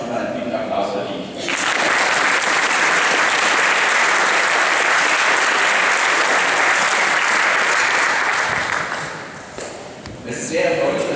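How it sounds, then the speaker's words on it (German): An audience in a sports hall at a table tennis championship in Berlin gives sustained applause, a dense wash of clapping that swells quickly, holds loud for several seconds, then thins and tapers, with a voice briefly at the edges. "die beiden haben schon einen guten Applaus verdient"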